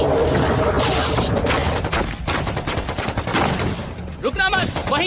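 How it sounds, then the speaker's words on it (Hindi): Gunfire in a Hindi-dubbed Hollywood horror film: loud, dense bursts of shots and crashing impacts fill the whole stretch in a chaotic, unbroken barrage. "रुकना मत, वहीं पर फायर करते रहो।"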